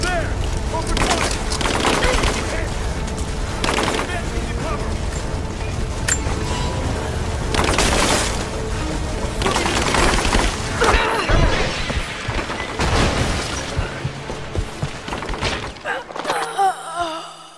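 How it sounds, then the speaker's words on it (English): Gunfire in the Rise of the Tomb Raider video game: repeated bursts and sharp shots with crashes and impacts throughout, under shouted character voices. "We've got shots fired!"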